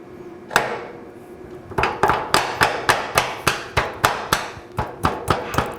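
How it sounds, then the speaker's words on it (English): Metal gearbox halves from a 990-FX pre-drill are tapped together along the sides: one sharp knock, a pause, then about a dozen quick, evenly spaced close taps, with no talking. "Give it a tap on the sides, and then reinstall these bolts."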